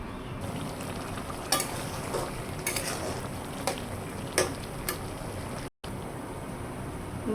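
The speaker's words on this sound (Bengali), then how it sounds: "ভাজা ভাজা করে নেব।" Beef tripe stir-fried in a pan gives a steady close sizzle with a few sharp scrapes of a spatula against metal, and one brief cut of silence partway through.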